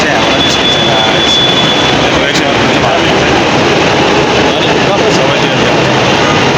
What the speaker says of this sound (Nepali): यो मेट्रो ट्रेन चाहिँ हामीलाई निस्किन्छ गाइस